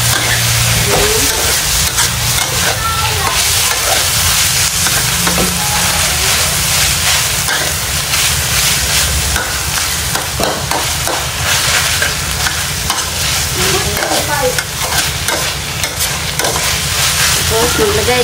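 Spring roll filling of coconut shoot frying in a pan with oyster sauce, a loud steady sizzle with scraping stirring strokes, and a voice talking over it at times.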